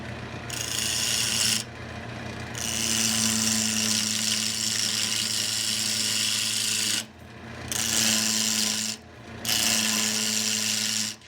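A Harbor Freight lathe, model 34706, cuts into a spinning myrtlewood burl in bursts of rasping, scraping tool contact over a steady motor hum, with brief pauses where only the motor runs.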